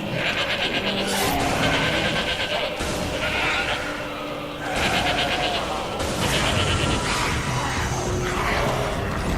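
Goat bleating in the horror shooter Shadows of the Damned, repeated loud bleats over a continuous dense game ambience, coming in several bursts across the stretch.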